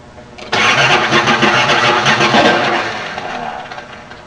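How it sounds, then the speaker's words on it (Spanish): A fuel-injected car engine cranks briefly, then fires abruptly and settles into a loud, rough running idle that gradually eases toward the end. "a la hora de darle arranque al motor"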